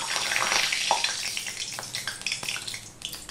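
Hot oil sizzles and spits hard as water from wet hands drips into it while jackfruit kopta fry for a vegetarian curry, a dense continuous hiss with crackling bursts, close and fairly loud.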